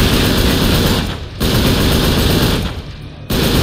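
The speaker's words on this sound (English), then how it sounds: "I swear the gunfire in this game is just so... over the top loud for no reason" Loud, over-the-top automatic gunfire from the Uncharted 3: Drake's Deception video game, a dense sustained burst with two brief dips before firing resumes.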